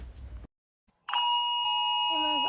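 An iPhone emergency alert tone: a loud, sustained harmonic electronic chime that starts abruptly after a brief silence and holds steady, with a lower warbling tone sliding in near the end, preceded by a short burst of noise.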